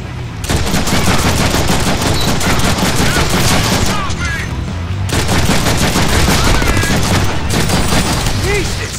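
Dense bursts of automatic and rapid gunfire from the Deadpool video game fill the whole stretch, loud and nearly continuous, with two brief gaps and no one talking over it.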